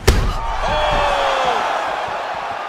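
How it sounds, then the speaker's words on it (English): A sharp, loud strike lands at the start of a UFC 4 fight, followed by a sustained roar of the arena crowd that swells and slowly fades. "You hear the crowd react every time they come together"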